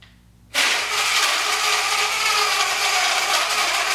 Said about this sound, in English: the good thing about BlendJet, guys, is that it is a portable blender. It is on the go. So as long as you have it charged, you guys just press this little button here and then it blends for you